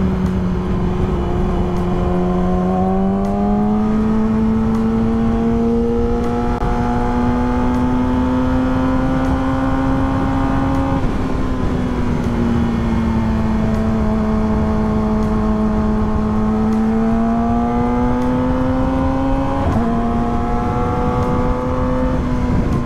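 Steady car engine drone from inside a vehicle moving through traffic, with slow rising and falling pitch as it accelerates and eases off, continuous and fairly loud throughout.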